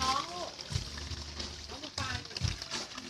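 Water flows and splashes in an aquarium tank with many fish, a steady slosh and trickle with voices talking over it.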